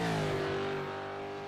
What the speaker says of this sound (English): Can never get enough of the sound of the V8s around Bathurst.